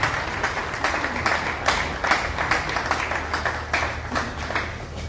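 An audience at a ceremony claps steadily in rhythmic bursts of applause, a continuous hall-filling sound lasting several seconds.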